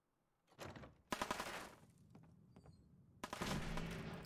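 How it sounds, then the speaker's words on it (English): Bursts of rapid gunfire crackle in sharp clusters, separated by brief gaps, with a loud sustained volley at the end, in the video game Fallout 4. "I can hear gunfire already."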